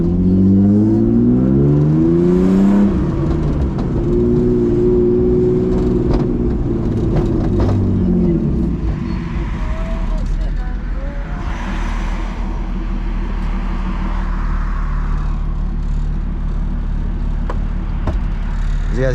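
A BMW E36 drift car on its first test drive. The engine revs and shifts up through several rising pulls, then settles into a low rumble with some knocks and whirs. It is heard from inside the car, with almost no talk.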